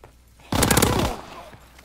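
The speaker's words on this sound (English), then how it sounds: "Fighter pilot inbound. Strafing the target." Strafing gunfire from a fighter pilot in the video game Call of Duty WW2, a loud, rapid automatic burst lasting about half a second and then fading.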